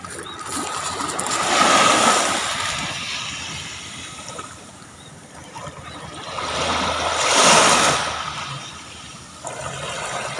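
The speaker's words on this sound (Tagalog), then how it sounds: "maganda pakinggan yung pagaspas ng alon" Ocean waves lap on a clean beach in the morning, two broad surges swelling and receding over a constant soft wash, close and fairly loud.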